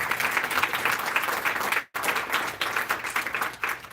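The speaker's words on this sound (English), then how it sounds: "can I get Some applause on that" Audience at a New London, New Hampshire town hall breaking into sustained applause, dense clapping from a sizable crowd that briefly drops out before resuming just as strongly.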